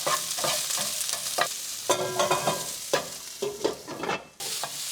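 Salted vegetables sizzle steadily in a hot pan, with repeated scraping and stirring sounds over the constant frying hiss, close and fairly loud.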